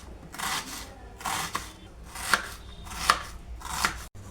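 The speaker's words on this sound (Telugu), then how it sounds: "ఇప్పుడు ముందుగా ఉల్లిపాయ కట్ చేసుకుంటున్నాను" Onion being chopped with a knife in a steady series of rasping cuts, each lasting about half a second, followed by a few sharper knocks on the board. Close and clear, with no talking.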